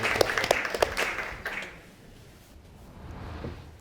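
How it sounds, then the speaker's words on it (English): Courtroom audience applauding a man as he is escorted in, sharp individual claps standing out at first, then the clapping thins and fades into room noise. "I think he deserves a round of applause."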